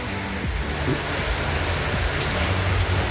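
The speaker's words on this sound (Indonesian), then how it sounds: "di sini hujan ya, kita pindah saja ya agar tidak basah" Steady rain falling outdoors in a garden where bonsai are being pruned, a dense continuous hiss with scattered drops close by, no voices.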